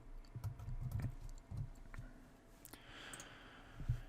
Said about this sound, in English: So here we'll go ahead and type in, again, the domain name we're looking for to match our company name.